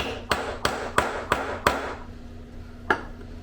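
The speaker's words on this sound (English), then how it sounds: "once you use your snap setter, it's just gonna go beautifully." Hammer strikes on a snap setter fixing a snap into a leather knife sheath held over an anvil: five sharp, evenly spaced blows, a pause, then one more, close and loud.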